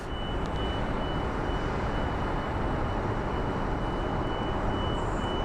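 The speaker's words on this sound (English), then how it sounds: "that plane is taking off" Airplane taking off at Phoenix Sky Harbor International Airport, a steady broad roar of jet engines that holds loud and even throughout, with a thin high whine riding on top and no talking.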